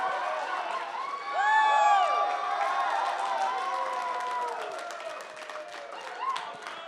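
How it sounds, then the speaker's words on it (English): A live audience in Las Vegas cheers and claps as MMA fighters are welcomed onstage at a pre-fight podcast before UFC 296, a crowd swell of whoops and shouts with scattered clapping that fades gradually. "Give them a big round of applause."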